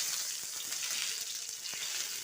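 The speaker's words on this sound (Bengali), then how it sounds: "এবার দিয়ে দিচ্ছি একটা কাঁচা লঙ্কা, একটা শুকনা লঙ্কা, আর দিয়ে দিচ্ছি জিরা" Green chili, dried chili and cumin sizzling in hot ghee, a bright, continuous crackling hiss with small pops, fairly close and steady.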